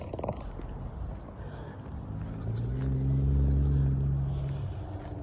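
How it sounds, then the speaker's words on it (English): A passing car on a city street makes odd noises, a low engine rumble with tonal hum that swells and peaks midway before easing off, fairly close by. "I'm hearing weird noises coming out of that car."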